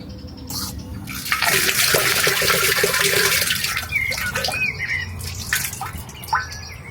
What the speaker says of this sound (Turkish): Önce ellerimizi yıkayalım.